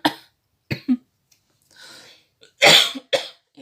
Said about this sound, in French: Et pardon, je tousse en même temps.